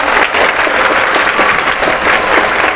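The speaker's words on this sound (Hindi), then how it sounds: "चलिए सर के नाम पे एक जोरदार तालियां मारिए तो।" Students at a government high school break into loud, dense applause at a school event, a sustained wash of many hands clapping close by with no pause.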